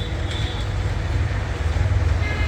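A train rumbles past close by beside rice seedbeds and mustard fields in winter, a loud low rolling drone with rattling wheel noise throughout the short stretch.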